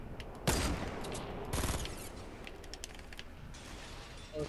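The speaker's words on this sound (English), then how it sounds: "Someone sniped him." Two sharp, loud sniper rifle shots ring out in Fortnite about a second apart, followed by a lingering echoing tail and faint game ambience.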